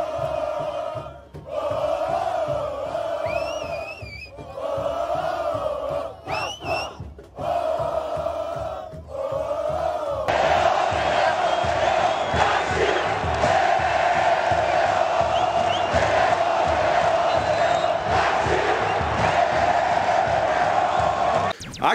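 Football crowd in a stadium in Caxias do Sul, a massed chant of many voices rising and falling in a steady rhythm before swelling into a dense, continuous roar.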